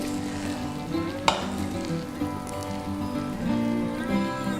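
Traditional upma cooks in a pan, bubbling and sizzling close up in a continuous crackle, with one sharper tap partway through and no talking.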